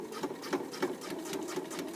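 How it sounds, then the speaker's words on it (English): A sewing machine runs a continuous straight stitch through bag fabric, a steady fast mechanical whir with rhythmic needle pulses, close and alone. "you're going to sew a straight stitch all the way around to where you started"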